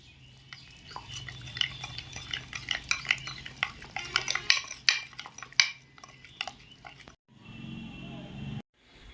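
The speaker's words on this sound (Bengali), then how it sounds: "এখন সব কিছু একসাথে ভালো করে মিশিয়ে একটা পেস্ট তৈরি করে নেব।" A spoon stirs chili powder, sugar and salt into a spice paste in a bowl, giving close, irregular scraping and clinking taps for several seconds before a brief pause and a faint hum.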